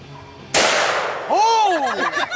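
A single loud gunshot from a Ruger Alaskan .454 Casull revolver fired outdoors at a bag, a sharp close blast with a ringing decay, followed by a shout.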